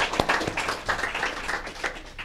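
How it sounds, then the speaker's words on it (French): Applause at a funeral ceremony, a modest group of people clapping with a soft, uneven patter of claps, close and moderately loud, without talking. "On applaudit Daniel."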